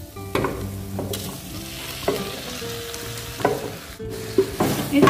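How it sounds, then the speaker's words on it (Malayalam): Tomatoes and cashews with dried red chilli sautéing in a pan for butter paneer masala, a steady close sizzle broken by repeated spatula scrapes and clacks against the pan. "ഈ തക്കാളിയും കൂടി ഒന്ന് വഴന്നു തരണം, ഒന്ന് റെഡിയാവട്ടെ."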